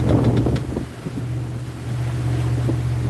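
Wind buffets the microphone over open water on Albemarle Sound, with a steady low boat engine hum underneath and a few brief gusts early on.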